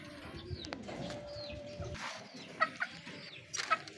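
Young pigeons in a breeder's loft, soft cooing and brief calls with scattered faint wing flutters and rustling in a quiet indoor space.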